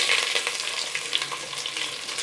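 Two large sliced onions fry in ghee for a pressure-cooker mutton biryani, a loud, dense, continuous sizzle heard up close with no talking.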